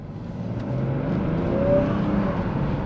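A 2021 BMW 540i xDrive with its B58 engine pulls away in sport mode, a steady close-up interior engine drone that rises in pitch as it accelerates, then settles, with no talk.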